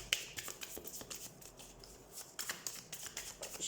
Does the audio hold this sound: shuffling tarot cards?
yes